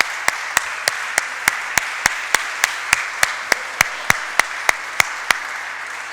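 About sixteen slow, evenly spaced claps ring out one after another in a church service during a congregation's applause for a family's newborn daughter, sharp and fairly close over a quiet background.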